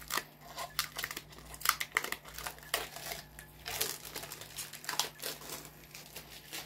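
Plastic packaging and wrapping around a new aquarium light fixture being opened, a continuous close rustling, crinkling and tearing with irregular bursts throughout.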